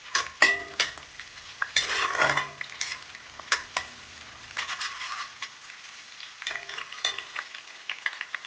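Green chilies frying in a pan for a home lunch: a steady sizzle with repeated spatula scrapes and metallic clinks against the pan, close and fairly loud, with no voices.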